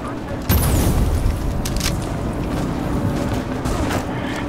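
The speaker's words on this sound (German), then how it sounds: "wir konnten die Explosion von hier aus sehen" A loud booming video game explosion at about half a second, followed by a dense rumble of continuous gunfire-like crackle and further distant booms.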